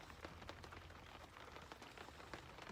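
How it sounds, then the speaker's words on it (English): Rain falling steadily on a sailboat, a faint, even patter of drops across the whole stretch with no voices. "we got a little bit of rain"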